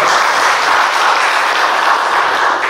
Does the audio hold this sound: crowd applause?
yes